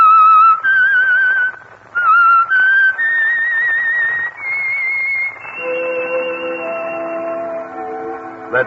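A whistled signal melody for The Whistler radio program sounds loud and clear. It is a series of sustained tonal phrases, and near the end a lower orchestral chord swells beneath it.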